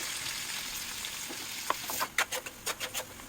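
Onions and green chillies frying in hot oil in a pan for street-style egg fried rice, a soft continuous sizzle with several sharp stirring clinks and scrapes near the end.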